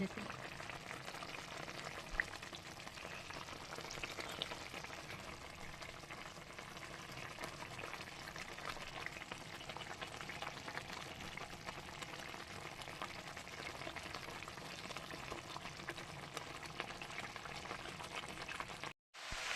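Pomfret fish curry boils in a pan, a steady soft bubbling and sizzling that runs close and constant for the whole stretch without anyone talking over it.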